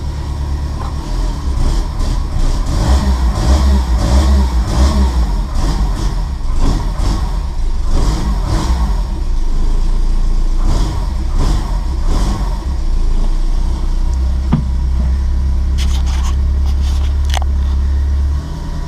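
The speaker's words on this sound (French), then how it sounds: "Si je lui mets le starter, on dirait un moteur américain" A cold Renault Super 5 1.1 Turbo with a GT2871 turbo idles on choke with a loud, lumpy rumble, rising and falling with blips of revving throughout, close up and alone.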